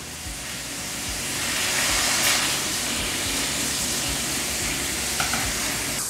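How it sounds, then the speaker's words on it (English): Frozen ground beef patties sizzle steadily in a hot pan, a dense, even hiss of frying fat that swells slightly midway and carries on without any talk. "while those are frying up back there"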